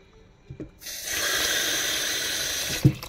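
Water gushes steadily from a tap into a cooking pot of string beans with crabs for about two seconds, with a couple of soft knocks before and a clunk at the end.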